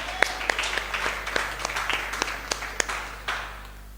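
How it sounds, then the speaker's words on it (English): A church congregation claps hands together, a loose run of sharp claps with some scattered applause under faint voices and a low hum. "Clap your hands for Jesus."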